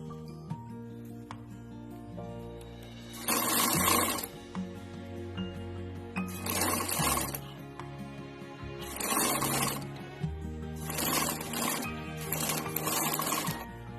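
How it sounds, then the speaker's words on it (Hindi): A sewing machine stitches fabric together with a zipper strip and lining for a small ladies' party bag, running in five loud bursts separated by short pauses over steady background music. "इस पे हम मशीन चला देंगे, सिलाई कर लेंगे"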